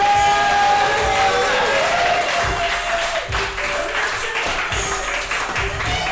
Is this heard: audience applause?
yes